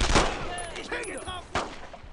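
Two sharp, loud gunshot bursts of covering fire in the World War II shooter Brothers in Arms, one at the start and one near the end, with a shouting voice between them.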